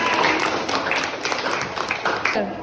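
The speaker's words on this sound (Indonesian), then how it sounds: "Tepuk tangan untuk Fitran." Classroom applause for a student, a short burst of children clapping close by in a school lesson, with some voices mixed in.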